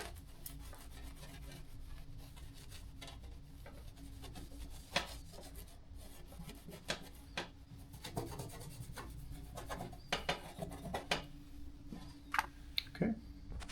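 A cloth soaked in isopropyl rubbing alcohol wipes and scrubs a small part clean, producing soft close rubbing and scraping strokes with occasional light clicks and taps, fairly quiet and irregular.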